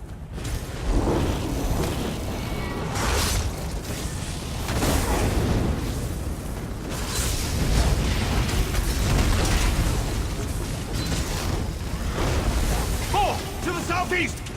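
Machinery whirs in the game ESO's Clockwork City, a loud continuous mechanical roar with bursts and pops throughout and voices speaking over it.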